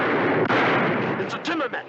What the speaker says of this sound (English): They must have heard a gunfire.